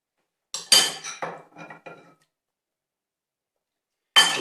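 Ingredients and yogurt go into a bowl with lemon juice for a chicken tikka biryani marinade: a run of clinks and scrapes of utensils against the bowl, then silence, then another clatter starts.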